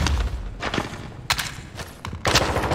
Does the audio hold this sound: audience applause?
no